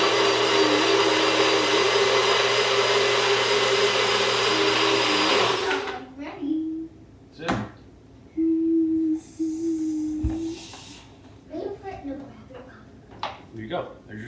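A blender whirs loudly and steadily while blending a healthy smoothie, then cuts off abruptly. After that come clunks, short bursts of noise, and some speech.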